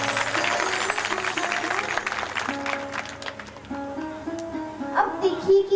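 Applause from the audience at a Ram Katha gathering in Haryana, sustained clapping under a loudspeaker voice and music throughout.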